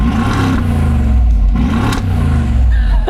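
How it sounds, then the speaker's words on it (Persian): A car's engine revs as throttle is applied at a showroom, a loud, close, deep rumbling roar that holds steady with slight rises, no talk over it. "می‌بینی ماشین میلرزه موقعی که بهش گاز میدی؟"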